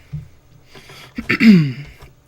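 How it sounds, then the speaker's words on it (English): A brief, close throat-clearing cough from someone narrating, sounding once quietly and then more forcefully in an otherwise quiet room. "coughing and all that stuff"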